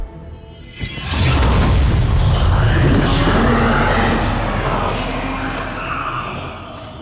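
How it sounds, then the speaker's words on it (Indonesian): A sudden heavy boom gives way to a long, roaring, whooshing surge of Minecraft energy, like souls being absorbed into an object, that slowly thins out and fades. "Terdengar ada suara ledakan energi, diikuti seperti suara soul yang terserap ke suatu objek."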